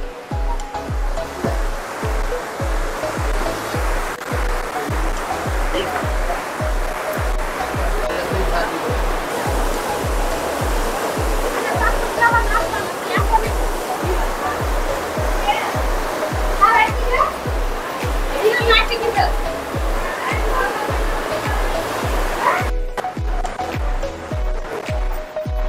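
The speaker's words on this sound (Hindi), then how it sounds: "आप पीछे देख सकते हो भागीरथी नदी और साइड से अलकनंदा नदी" The Bhagirathi and Alaknanda rivers rush together at the Devprayag confluence in Uttarakhand, a loud, steady roar of turbulent water filling the scene continuously, with low rhythmic thumps underneath.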